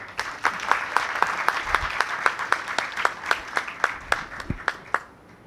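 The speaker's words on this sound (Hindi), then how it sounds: "आइए तालियों के साथ हम हमारे बच्चों का प्रोत्साहन बढ़ाएं" An audience at a school annual function applauds with sharp, individual hand claps in a steady, moderately paced rhythm. The claps sound fairly distant and thin rather than a dense crowd roar, and faint talk sits beneath them.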